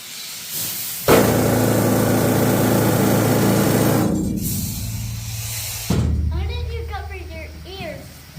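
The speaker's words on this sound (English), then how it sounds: "this is by far the loudest drill we have down here" A loud mining drill roars with a harsh hissing blast underground in a gold mine, cuts out, then starts again while people talk over the noise.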